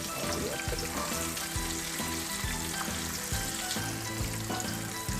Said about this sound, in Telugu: ఇప్పుడు మళ్ళా ఫ్రై చేసి ఒక పక్క అయిపోయిన తర్వాత ఈ పక్కకి తిరగబెట్టుకోవాలి